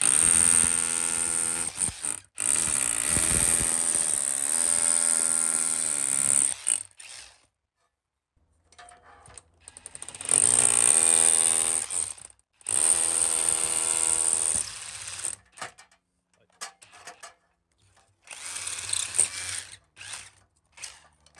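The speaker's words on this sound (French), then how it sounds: "je vais prendre mon perco, ma scie cloche et je vais percer" Loud whirring of a power drill with a hole saw grinding into brick, running in long bursts separated by short pauses.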